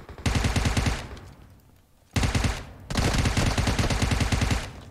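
Bursts of automatic gunfire from a PUBG Mobile firefight: a loud, dense volley, a short lull, then two more sustained rapid-fire bursts close by.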